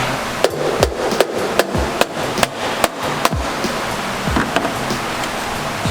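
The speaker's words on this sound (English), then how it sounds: "Just do a couple of whacks with the rubber mallet, and she's ready to come out." A rubber mallet whacks a 2017 Subaru WRX STI intake manifold in a steady series of about a dozen sharp, close knocks, each a dull thud with a short ring, with no one talking.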